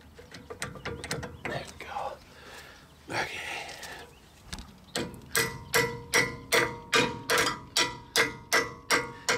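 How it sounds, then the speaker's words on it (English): A steady series of sharp framing hammer strikes on nails, evenly paced and close, following scattered taps and handling noise. "Yes, I know I'm using my framing hammer."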